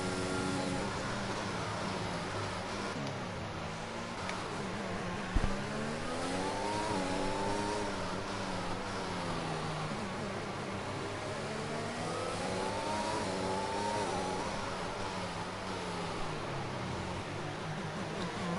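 Race car engines in a racing video game, a continuous mid-pitched engine drone rising and falling through revs and gear changes, with one brief thump partway through.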